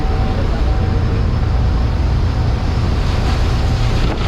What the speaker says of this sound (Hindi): बहुत ज़बरदस्त वेव्स है, अंदर तक पानी आ रहा है